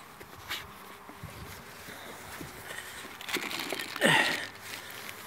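Honeybees at a weak single-frame hive in a basket hive during formic acid varroa treatment, a soft continuous buzz with scattered rustling and a louder, sharp insect flyby burst near the end.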